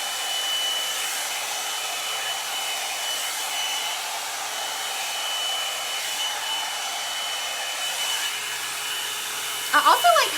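Rose gold blowout brush runs continuously while blow-drying hair, a steady, fairly loud whooshing motor hum with slight fluctuations, ending with a brief voice at the close.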